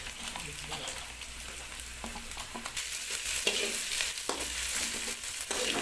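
Ginger-garlic paste fries in a pan for a soybean curry, a crackling sizzle broken by repeated scraping stirs that grows louder partway through, with no talking.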